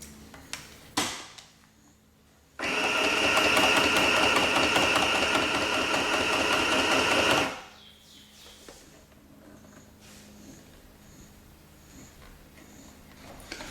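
A Singer M1000 sewing machine runs fast at speed setting 6, a loud steady whirring burst of about five seconds, framed by faint clicks and handling sounds before and after.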